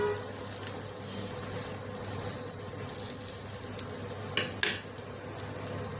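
A roti frying in a pan for an egg roll gives a steady, moderately loud hiss throughout, with two brief sharp clicks near the end and no voices.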